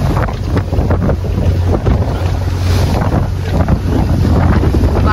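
A sailing ship with its engine off rides fast waves in the Baltic Sea, loud wind buffeting and rushing water sloshing continuously close by, with no speech.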